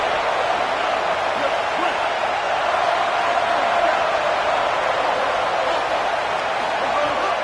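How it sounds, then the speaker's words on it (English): A stadium crowd at a football game on third down makes a loud, sustained roar that holds fairly steady throughout. "Decibels rising as the crowd gets behind this defense on third down."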